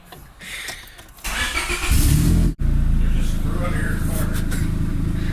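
A turbocharged Honda Civic with a D16 engine starting up and idling, the engine note rising to a steady loud rumble with a brief cutout midway, after some nearby talk at the start.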